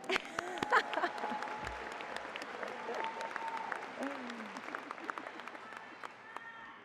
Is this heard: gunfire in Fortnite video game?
no